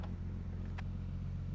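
A cold 1989 Nissan Skyline GT-R with an engine not yet warmed up idles or runs gently, a low steady drone with a faint brief click partway through, heard alone and fairly quiet.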